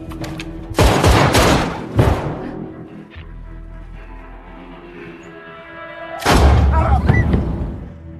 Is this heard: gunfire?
yes